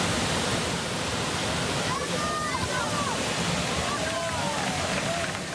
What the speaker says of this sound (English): competitors from around the world braved the elements and the height to take part in an international waterfall jumping contest in Bosnia